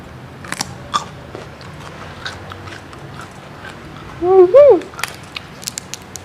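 Someone eats a spicy Thai salad of pork sausage with bird's eye chili, giving scattered close bites and soft crunches, then a brief loud warbling squeal in the middle.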